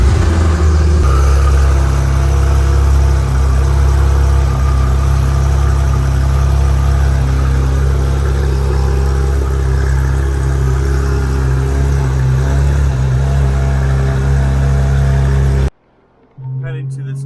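Porsche GT3 RS engine while driving to a private car meet, a steady loud drone with shifting revs throughout that cuts off sharply near the end.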